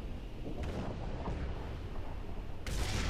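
A tank cannon shot knocks out an M4A3E2 Jumbo 76 tank in War Thunder, heard as a loud, sudden blast at the end after a steady rumble of engine and battle noise.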